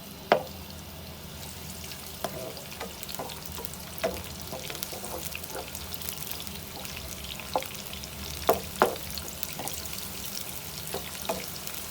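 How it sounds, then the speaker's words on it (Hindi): Onions frying in half a cup of hot oil for a dhaba-style egg masala, a steady soft sizzle with scattered sharp crackles and light clicks of stirring throughout. "ऑयल को गर्म करते हैं, प्याज डाल देते हैं, प्याज को फ्राई करते हैं"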